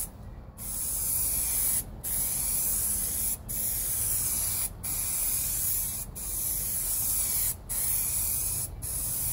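A spray gun lays paint onto a 2003 Cadillac CTS driver's mid quarter panel in loud, close hissing bursts about a second and a half long, each separated by a brief pause, seven passes in a steady rhythm.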